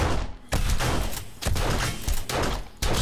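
Loud, repeated bursts of gunfire shooting at a bear in 7 Days to Die, several heavy booming volleys separated by brief gaps, close and dominant.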